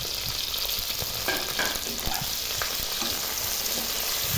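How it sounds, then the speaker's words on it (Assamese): Onion, tomato and capsicum frying in a pan give a dense, even sizzle up close, dotted with soft stirring knocks and scrapes, and no one speaks. "অলপ ফ্ৰাই কৰিব লাগিব।"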